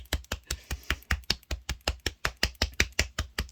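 A hand pats rapidly and evenly against a chest, producing a quick, close series of soft thumping claps that continues without a break for several seconds.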